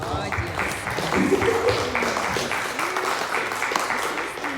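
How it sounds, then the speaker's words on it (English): Modest clapping from a small group at a Ferrari 296 GTB presentation at a luxury car show, mixed with chatter and voices nearby, lasting several seconds without a clear build or fade. "Feel free to clap, guys."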